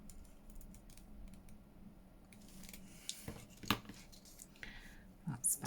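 Paper being cut by hand with scissors around a shape, producing soft, close snipping and rustling that grows busier and louder toward the end, with a few sharper crisp snips.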